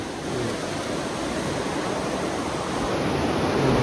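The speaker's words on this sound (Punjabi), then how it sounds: "ਪਾਣੀ ਦੀ ਕਿੰਨੀ ਸਪੀਡ ਆ ਤੇ ਸਾਰੇ ਦਰ ਖੁੱਲੇ ਹੋਏ ਆ" River water rushes through the open barrage gates at Harike Pattan, a steady, loud, broadband roar that holds even throughout with no voices over it.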